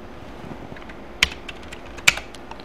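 Someone enters a password on a computer keyboard: a handful of soft, close key clicks over quiet room tone, with two sharper, louder keystrokes standing out.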